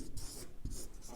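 A pen scratches across paper while notes are written during a Hindi grammar lesson, in short, close strokes with brief pauses between them, soft and alone.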